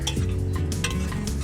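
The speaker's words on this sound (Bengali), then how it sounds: "এবার আবারও সমস্ত কিছু খুব ভালো করে নেড়ে নেব।" Sliced snake gourd sizzles in a pan as a spatula stirs it briskly, with close scraping and clinking of metal on the pan over a steady frying hiss.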